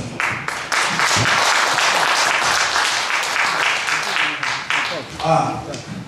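Audience applause and cheering at a live musical performance, a dense, steady wash of clapping that runs loud throughout, with a few voices mixed in near the end.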